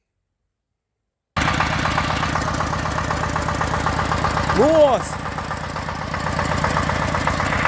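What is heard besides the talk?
homemade tractor engine running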